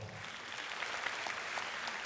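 Sustained applause from a concert audience fills the hall, a dense, steady wash of many hands clapping with no voices standing out.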